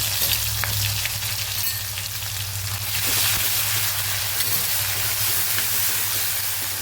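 Ginger chili garlic paste sizzles and spits in hot oil with whole spices for a Gujarati panchratna dal, a steady close frying hiss with small crackles throughout and no talk.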